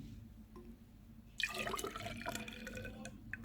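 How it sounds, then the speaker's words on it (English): Liquid is poured into a measuring cylinder: after a quiet start, a close, bright splashing and trickling begins abruptly and continues to the end. "Then I'm going to pour the liquid into the measuring cylinder"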